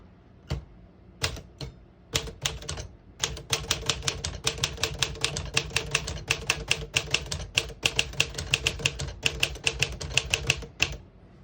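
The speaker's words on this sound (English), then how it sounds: "Type a sentence real quick in red." Rapid, steady keystrokes from a 1956 Smith-Corona Silent Super portable typewriter, a run of sharp close clacks with a few isolated strikes at the start, typed alone with no talking.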